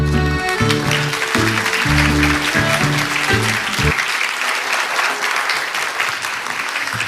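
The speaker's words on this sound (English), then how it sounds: "Why don't you give another big round of applause?" An audience applauds after a presentation at an AI global forum in Seoul. The clapping is loud and sustained throughout, mixed at first with music that cuts out midway, leaving the crowd's clapping alone.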